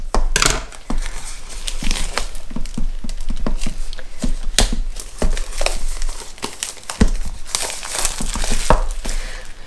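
Crinkling cellophane wrapping on the box of an Olight Baton 3 Premium Edition torch being cut open, a steady run of close, loud crackles and sharp snips.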